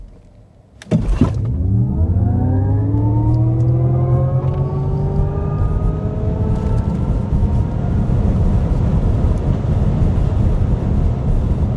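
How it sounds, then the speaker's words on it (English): A 2026 Cadillac Optiq V electric SUV launches hard from a standstill toward 60 mph, its electric motor whine sweeping steadily upward in pitch over rising road and wind roar, loud and continuous. "So it launches like it just remembered that the oven is still on, but then it tails off."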